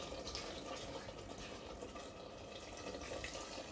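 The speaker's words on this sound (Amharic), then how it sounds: "አሁን ውሃ እንከልሰዋለን።" Water being poured into firfir made with fresh meat and dried meat during cooking, a faint, continuous trickling splash held steady throughout with no talk.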